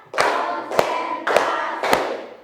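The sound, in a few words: class clapping hands in a rhythmic spirit clap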